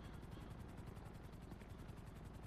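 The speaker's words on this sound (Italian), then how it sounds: "C'è un elicottero e sta andando verso non so dove." Helicopter from the video game GTA 5 flying nearby, a steady rhythmic rotor thump with broad engine whine, continuous and fairly loud throughout the short stretch.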